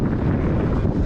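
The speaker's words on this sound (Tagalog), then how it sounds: "Lakas ng hangin" Strong wind buffets the microphone on a beach ride, a loud steady low roar with gusty rumbling through the whole moment, with no talking.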